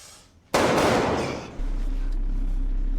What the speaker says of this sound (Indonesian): Kapten Toren mendengar suara tembakan dan langsung bersembunyi.